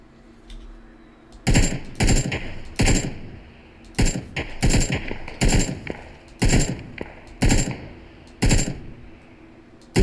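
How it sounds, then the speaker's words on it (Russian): AK rifle fire in PUBG: Battlegrounds, heard as about nine loud, sharp bursts of automatic gunfire spread at irregular intervals over a low background. "С калаша стреляешь, серьезно?"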